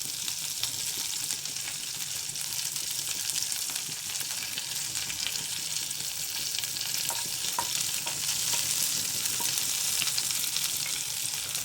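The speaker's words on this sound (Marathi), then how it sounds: "मिरची परतून घ्यायचं हे छान हे छान परतलेलं आहे" Green chili, curry leaves, coriander and mint sautéing in a pan, a continuous close hiss and sizzle with faint stirring scrapes, no talk.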